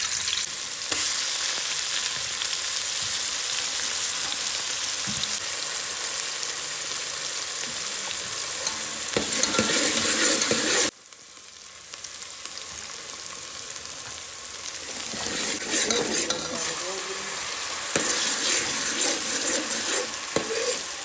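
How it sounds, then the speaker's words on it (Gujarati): Spices tempering in hot oil for pav bhaji give off a loud, steady sizzle up close, with a short quieter break partway through before the frying rises again with some stirring noise. "તેલ હું નાખીને કરીએ વઘાર"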